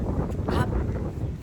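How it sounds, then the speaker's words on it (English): Strong seaside wind in Brighton buffets the microphone with constant low roaring rumble and gusty bursts, loud and close throughout, with no clear talk over it. "the wind is horrendous today in this area"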